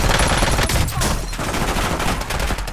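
Gunfire in the video game Call of Duty Warzone, dense loud continuous shooting with heavy low rumble, close and steady throughout, no talking.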